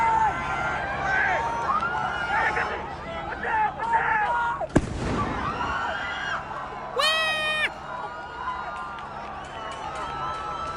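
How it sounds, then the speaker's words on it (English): Fireworks pop and crackle over a noisy outdoor protest crowd at UCLA, with one sharp loud burst midway and a rising whistle soon after, amid shouting. "Here's the sound of the fireworks at UCLA."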